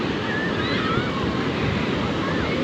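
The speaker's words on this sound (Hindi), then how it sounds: "देख रहे हैं आप ये लहरें कैसी आ रही हैं" Sea waves rolling onto Sea View beach in Karachi, a steady broadband wash of surf with wind buffeting the microphone, continuous and close, no distinct breaks.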